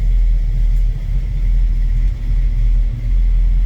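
A 1972 Chevrolet pickup's 350 small-block V8 idles steadily, a deep, loud low rumble with slight rhythmic lope that swells and dips a few times, no voices over it.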